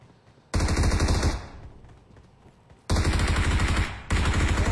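Rapid bursts of automatic gunfire from a video game shootout, loud and close, in two long sustained volleys separated by a quieter stretch.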